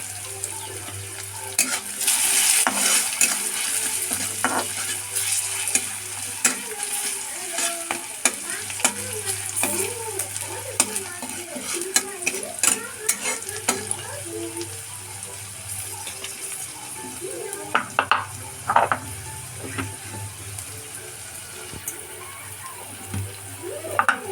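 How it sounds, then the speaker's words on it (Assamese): Steady frying of poha in a pan, with repeated scraping and clattering of a utensil stirring the food throughout, close up. "এইখিনি এতিয়া ভাজি হৈ গৈছে, কোৱান্টিটি কম কাৰণে সোনকালে ভাজি হৈ গৈছে।"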